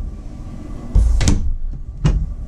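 Two wooden knocks and slides of cabinet drawers being pulled and pushed shut in a travel trailer kitchen, close by, over a low background rumble.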